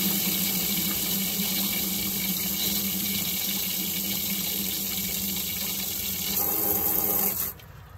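Water from a hose runs steadily onto the drain area of an Express or Savana van, a loud continuous splashing rush that swells briefly near the end and then cuts off abruptly.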